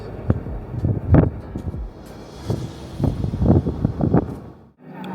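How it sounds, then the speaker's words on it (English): Strong wind buffeting the microphone in uneven gusts on an upper deck of the P&O Iona cruise ship in the Norwegian fjords, rumbling low and loud throughout with no voices. "Really, really windy up here"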